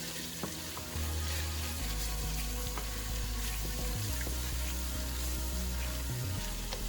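Tomato paste sizzles loudly in a pot for a mung bean stew, a dense continuous frying hiss up close with a steady low hum and occasional scrapes of stirring, and no one talking.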